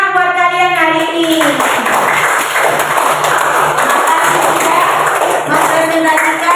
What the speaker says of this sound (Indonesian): Tepuk tangan buat kalian hari ini.